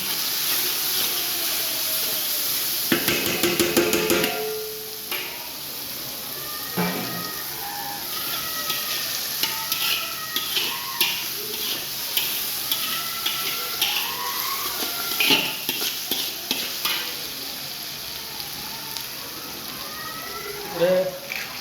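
Finely chopped chillies and grated ginger fry in a pan for rava upma with a continuous soft sizzle and crackle, broken by scattered pops and clatters while a person talks over it.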